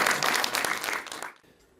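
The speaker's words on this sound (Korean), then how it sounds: "여러분 박수 부탁드릴게요" An audience at a Buddhist lecture applauds, a dense burst of many hands clapping that is close and loud, then quickly fades away within about two seconds.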